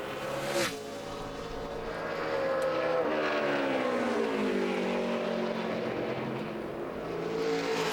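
A NASCAR Chevrolet stock car on a qualifying run in a Nationwide Series race, its engine roaring steadily with a rising and falling pitch as it circles the track, loud and sustained.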